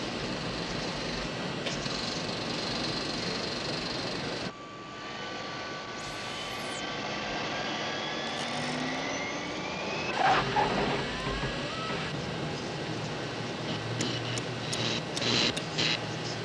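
An aircraft starts its takeoff roll with a steady, broad engine roar that shifts in tone partway through, with scattered faint ticks and clicks over the rumble and no voices.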